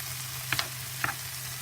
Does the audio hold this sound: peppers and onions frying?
yes